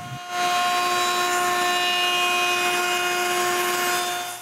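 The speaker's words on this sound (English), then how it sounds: "I can route a roundover on all those nice curved pieces of wood" A handheld router cuts a roundover along the edge of a curved wooden piece, a loud steady high-pitched whine that starts abruptly and holds level throughout, with no talking.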